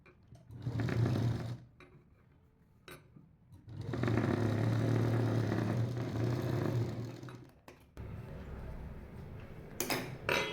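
A sewing machine stitches the front of a princess-cut blouse in short bursts, its motor whirring up and stopping between runs, with a few clicks and handling sounds in the gaps.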